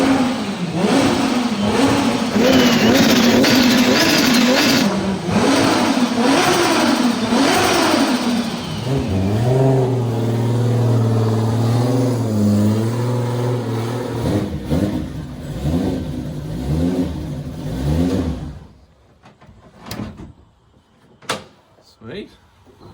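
A Nissan S14.9 car engine revs loudly and close, its pitch rising and falling over repeated throttle blips, then cuts to near silence with a few sharp clicks and knocks.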